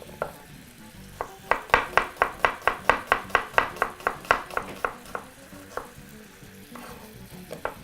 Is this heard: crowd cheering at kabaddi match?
no